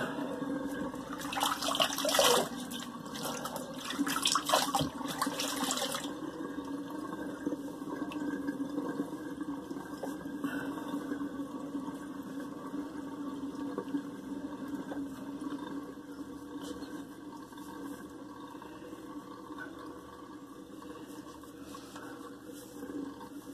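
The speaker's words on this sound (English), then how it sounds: "Let the water out of the sink." Water drains steadily out of a bathroom sink after a face rinse during a wet shave, a continuous gurgling wash that is loudest in the first few seconds and then settles into a softer, even trickle.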